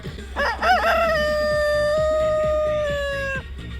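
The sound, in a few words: roosters crowing at noon in a park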